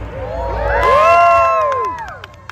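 A crowd at the world's biggest bouncy castle in Canada cheers and whoops, voices rising together into a swell of excited shouting that peaks and then fades out over a couple of seconds.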